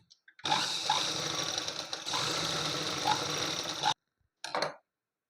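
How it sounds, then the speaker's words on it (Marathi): A sewing machine stitches cotton cloth for a latkan, running in two long, loud bursts of rapid needle clatter, then a short final burst after a brief pause. "हे जो कॉटनचा कपडा आहे त्याला पण असा मधोमध फोल्ड मारायचा आहे आणि हा पण असं साईडनी शिवून घ्यायचा आहे"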